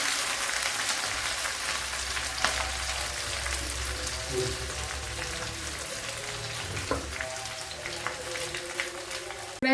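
Ginger garlic paste frying in hot oil for mango pickle, a steady crackling sizzle with occasional stirring scrapes, close and continuous.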